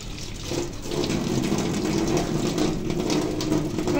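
Water pours into a home jacuzzi bathtub, a continuous broadband rushing that swells slightly toward the end, with no voices.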